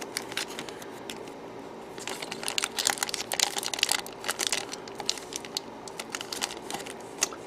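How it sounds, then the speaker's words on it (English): Small plastic bag being fumbled with and crinkled, a run of sharp rustling crackles that grows busier midway and continues in irregular bursts, close and fairly quiet, no talking. "perhaps we'll just sit and watch me fumble around with a small plastic bag"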